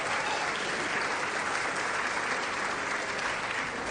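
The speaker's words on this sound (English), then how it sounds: "Yes, give her a round of applause." Sustained applause from an audience at a lifetime achievement award event, a dense, even wash of many hands clapping steadily from start to finish with no pauses.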